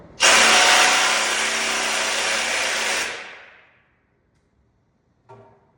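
A power tool whines loudly and steadily for about three seconds while removing the bumper from a Jeep LJ, then spins down, followed by a short faint clatter.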